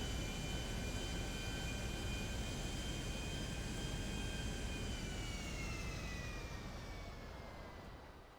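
A jet aircraft in GTA 5 Online lands with a loud, sustained engine roar and a high whine. The whine drifts slowly downward and fades slightly toward the end.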